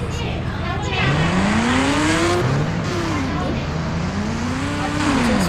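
A KTM motorbike engine in a mobile bike racing game revs up and down in smooth sweeps, rising, dropping and climbing again as the bike accelerates, loud and continuous throughout.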